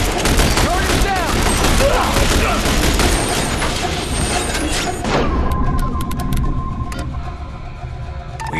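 Sustained bursts of automatic gunfire in The Bureau: XCOM Declassified, a loud dense barrage for about five seconds that then thins into scattered shots and mechanical clicks over a steady drone.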